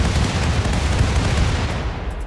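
A dense, rumbling barrage of cannon fire roars in a RimWorld space battle, with overlapping booms blending into one continuous heavy wall of sound for a couple of seconds.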